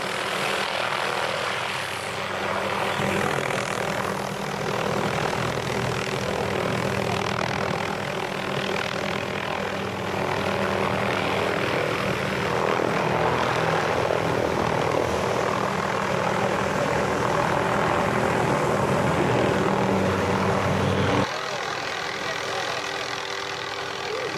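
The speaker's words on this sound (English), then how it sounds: "They brought a rescue helicopter in." A rescue helicopter's steady engine and rotor roar fills the air along the Hana road, loud and constant for a long stretch before dropping off abruptly near the end.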